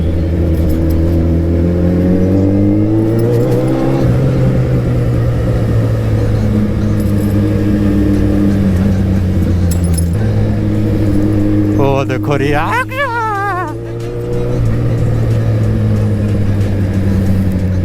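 A Suzuki Hayabusa motorcycle idles and revs steadily with a loud, continuous engine drone, its pitch rising and falling with throttle blips; someone talks over it.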